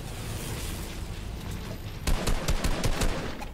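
Submachine gun fire in a video game: a quiet stretch, then a rapid burst of sharp repeated shots starting midway, loud and close, with no talk.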